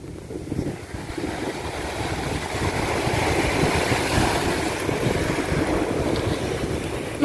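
Ocean waves and wind at a Thai beach: a continuous broad rush of surf and gusting wind buffeting the microphone, steady and loud with no voices.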